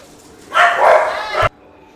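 Dogs in the Guild Wars video game barking, a single loud burst of yips and barks lasting about a second, cutting off abruptly into quiet.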